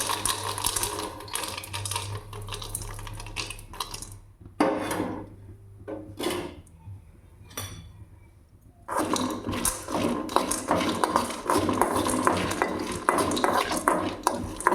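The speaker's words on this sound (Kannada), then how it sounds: "ಈ ಶೇಂಗಾನ ಇದರೊಳಗಡೆ ಹಾಕ್ಬಿಟ್ಟು ಫ್ರೈ ಮಾಡಬೇಕು" Shelled peanuts fry in hot oil in a pan, stirred with rapid close scraping and rattling strokes that stop briefly midway, leaving sparse knocks, before the busy stirring resumes.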